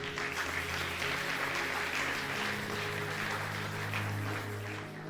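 Church congregation applauding steadily for about five seconds to acclaim the Lord during a French-language service, a dense continuous clapping wash with music or organ tones sustained underneath.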